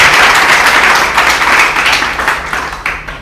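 A dense burst of audience applause at a Telecel Ashanti Codes 2026 student digital skills event, loud at first and tapering to scattered claps, with no talk over it.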